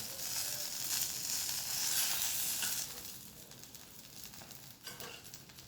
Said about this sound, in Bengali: গোটা গোটা বেগুন তো স্লো আঁচে আছে